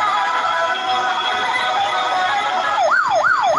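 Toy police car siren wails in rising and falling sweeps near the end, loud and close over a steady electronic hum.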